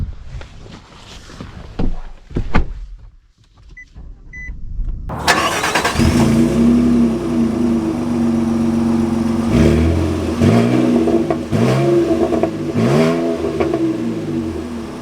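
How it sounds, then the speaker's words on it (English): A pickup truck engine turns over after a quiet stretch with a few clicks, then idles and revs loudly up and down in several surges, heard close and steady. "let's take them out and see which one drives the best"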